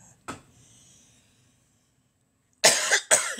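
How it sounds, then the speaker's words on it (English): Two sharp, close coughs come one right after the other, following a near-silent stretch with only a faint tap, during a live stream. "I ain't start coughing until I got ready to go live."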